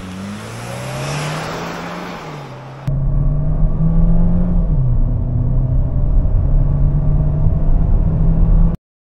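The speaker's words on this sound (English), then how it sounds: "let's see what that low end torque and 8-speed transmission does for us in a 0 to 60 run" A 2025 Chevrolet Equinox with an 8-speed transmission accelerating hard from a standstill in a 0 to 60 run, a loud steady engine drone with rising pitch and a shift partway through, then a sudden cut to silence.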